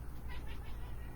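A domestic cat gives a couple of soft, quick meows, faint and close in a quiet room.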